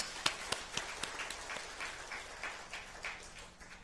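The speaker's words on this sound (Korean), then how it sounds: "그분들을 위해서 우리 박수 한번 부탁합니다." A church congregation at a Sunday service in Korea claps for men's group members heading out to volunteer, a few sharp, distinct claps at first, then a softer, thinning round of applause that fades out, heard from some distance.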